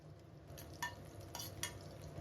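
Mustard seeds and cumin hit hot oil in a pan, giving a faint, low-level sizzle with a few small crackles and a light utensil clink, brief and quiet with no talking.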